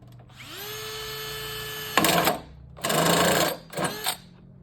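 A power drill drives a screw into a rain-barrel downspout: a whirring motor spin-up followed by three short bursts of grinding as the screw bites, close and fairly quiet.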